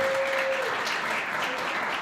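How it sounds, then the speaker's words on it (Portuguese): Steady applause from a church congregation during a Portuguese-language sermon, a continuous wash of clapping at moderate level throughout, with a brief tone near the start. "aplauda ele."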